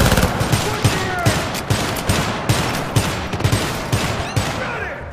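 Rapid automatic gunfire from the video game Syndicate in a co-op mission, a string of sharp, loud bursts at a quick irregular rhythm over a dense background of combat noise, with faint speech mixed in.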